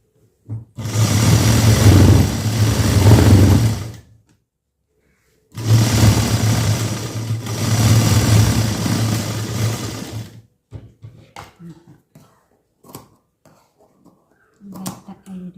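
An electric sewing machine stitches a lined blouse in two long bursts of a few seconds each, a steady close whirring hum with a pause between, then scattered small clicks and handling sounds, with no speech.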